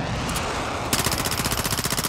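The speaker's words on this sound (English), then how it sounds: "I'm shooting at the VTOL" Rapid automatic gunfire aimed at a VTOL in Call of Duty, starting after a brief lull and rattling on as a dense, loud, continuous burst.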